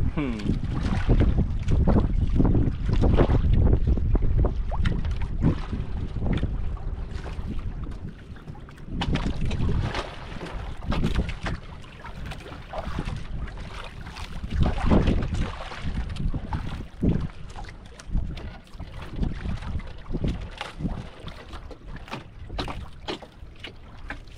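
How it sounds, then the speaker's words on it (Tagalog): Strong wind roars steadily across an open boat at sea during a fishing trip, buffeting the microphone with loud rumbling gusts throughout, while occasional voices speak faintly beneath it. "Medyo malakas pa rin yung hangin."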